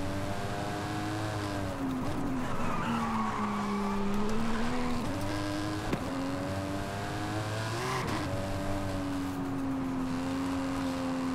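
A Dodge Challenger SRT Demon races in Forza Horizon 5, its engine a loud, continuous drone that rises and falls through gear shifts and cornering, with a couple of sharp knocks along the way; no voices.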